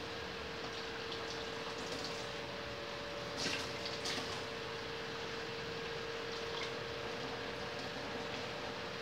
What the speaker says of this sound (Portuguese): Mais um pouquinho d'água.